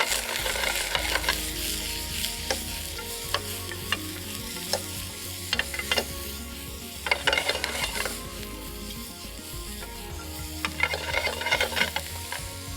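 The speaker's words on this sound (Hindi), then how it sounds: "सॉटे वेजिटेबल्स बनाएंगे। Carat, onion, capsicum, salt" Carrot, onion and capsicum sautéing with salt and black pepper, a steady close sizzle with repeated stirring scrapes and clanks running throughout, no voices.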